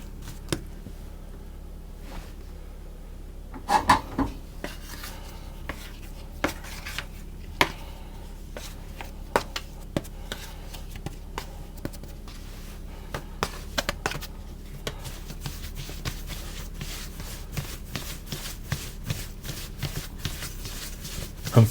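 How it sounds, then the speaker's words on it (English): Hands knead bread dough on a floured counter, making soft, repeated rubbing and light tapping sounds over a steady low background hum. "just knead that a little bit"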